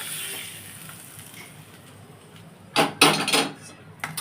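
Fried pointed gourd and potato fritters tipped into a cooking pan, giving a few loud clattering, scraping knocks in quick succession near the end after a quiet stretch of room tone.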